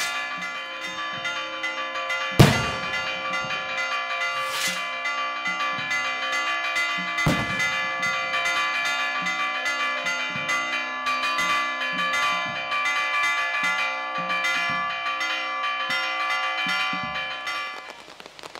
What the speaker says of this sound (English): Fireworks and bells echo through the neighborhood.